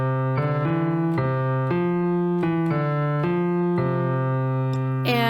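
Virtual piano keyboard melody mixing short and long notes, clean and steady, played alone with no voices.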